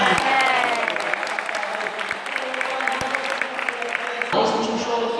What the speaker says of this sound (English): give him a nice big round of applause for me, guys